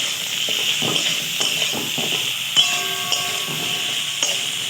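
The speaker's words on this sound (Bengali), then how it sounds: "এই তেলের মধ্যে আমি দিয়ে দেবো কেটে রাখা ঝিঙে, পরিমাণ মতো নুন দিয়ে দিলাম। এবার এটাকে খানিকক্ষণ নাড়তে থাকবো।" Sliced ridge gourd fries in hot oil with salt in a pan, with a steady sizzle and hiss under irregular scraping and stirring strokes and a few sharp clinks of the utensil against the pan.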